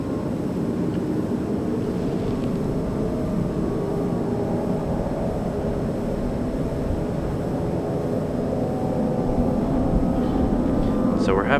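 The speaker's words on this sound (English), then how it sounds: "one last busy push here right as the MD-11 gets a move on" An MD-11 jet departs at Raleigh-Durham International Airport, a continuous broad low rumble of engine noise heard from a distance that holds steady throughout with no speech over it.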